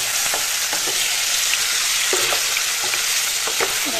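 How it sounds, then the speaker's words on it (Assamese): Chicken pieces for a mango chicken curry being turned and fried in a pan: loud, continuous sizzling with occasional scrapes and knocks of a spatula stirring the meat. "এতিয়া এটাখনকে মাংসখিনি তলপৰ কৰি লৰাই দিম"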